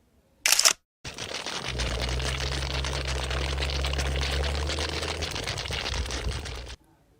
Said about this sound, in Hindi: एक दरख्त में से इस तरह पानी निकलते हुए शायद ही पहले कभी किसी ने देखा होगा।